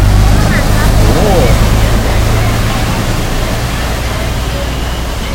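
A passenger boat runs along Khlong Saen Saep canal in Bangkok, its engine roaring steadily with rushing water wash close by, loud and continuous, while a voice is faintly heard early on.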